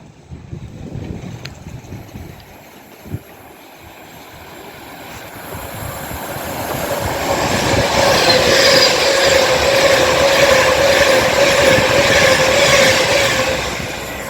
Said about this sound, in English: Passing through now, we've got an Avanti West Coast Class 390 Pendolino running from London Euston to Edinburgh